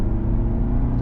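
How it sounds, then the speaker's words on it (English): Inside the cabin of a 2025 Honda CR-V Sport Hybrid, a steady, loud, low engine drone mixes synthetic engine noise with real mechanical rumble, constant throughout. "this has some synthetic engine noise blended in with the real noise that's fed into the cabin"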